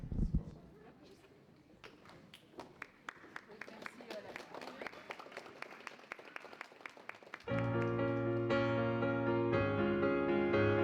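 An audience claps for pageant contestants at the Miss Charmante Nouvelle Aquitaine 2025 final, with scattered, steady claps building over several seconds before loud music cuts in and takes over.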